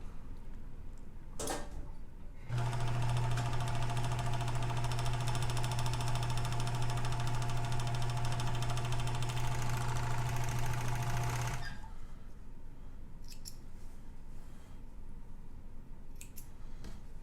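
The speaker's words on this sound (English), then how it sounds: "both sides of my seam allowance are now overlocked" An overlocker serges the seam allowance on a muslin fabric garment, a steady, loud mechanical whir with a low hum that runs continuously for about nine seconds, then stops, leaving a quiet room.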